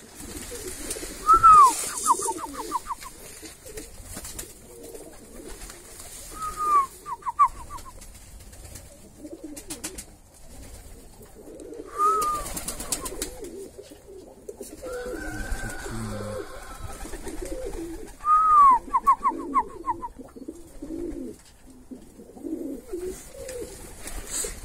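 Armenian pigeons cooing in spring, several separate soft rolling coo phrases spaced a few seconds apart, fairly close, with quiet background rustle and low ambient noise between calls.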